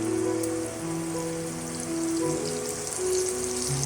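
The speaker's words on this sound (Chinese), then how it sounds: "取出意大利调味料，倒一点点进锅里，稍微翻炒一下，让蘑菇吸收橄榄油和香料" Mushrooms being stir-fried in olive oil with Italian seasoning give off a steady, even sizzle with a patter like rain, close and continuous, with no talking.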